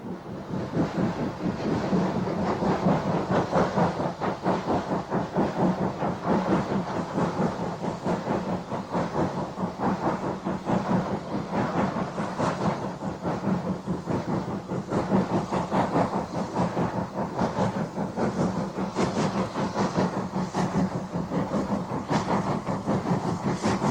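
Preserved North Eastern Railway steam locomotive no. 2392 on the North Yorkshire Moors Railway, running with a steady rumbling roar and rhythmic clatter of wheels, buffeted by wind noise, continuous throughout.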